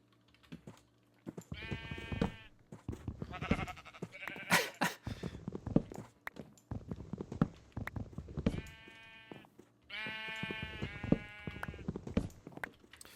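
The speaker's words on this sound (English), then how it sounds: "Lots of sheep here" Several Minecraft sheep bleating in a plains world, a few separate bleats near and clear, with soft keyboard tapping and clicking underneath in between.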